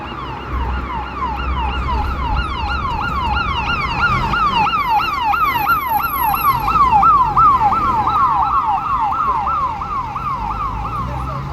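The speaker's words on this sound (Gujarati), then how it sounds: "એમ્બ્યુલન્સ કેમ મળી ગઈ જોયું ને" An ambulance siren wails continuously in rising and falling sweeps as it passes through city traffic, loud and close throughout, over a low rumble of road noise.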